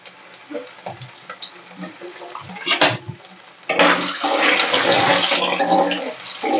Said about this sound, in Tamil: இப்போ வந்து நம்ம இந்த உருளைக்கிழங்கு போட்டுக்கலாம். போட்டு இது நம்ம ஃப்ரை பண்ணி எடுத்துக்கலாம்.